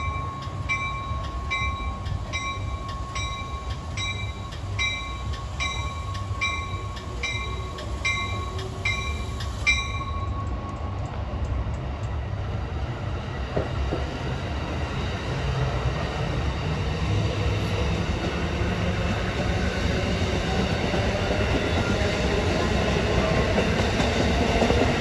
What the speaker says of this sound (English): Train 3953, another one of those express trains